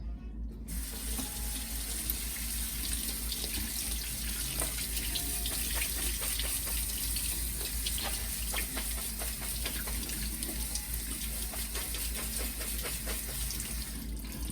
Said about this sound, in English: I'm going to give this a good rinse